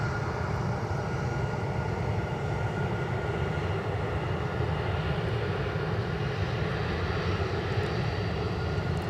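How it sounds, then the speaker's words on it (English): A Delta Air Lines Boeing 757-300 touching down at Minneapolis–Saint Paul airport, heard as a steady, distant, low jet engine roar throughout with no talking. "we've got a 757 about to touch down for Delta Airlines"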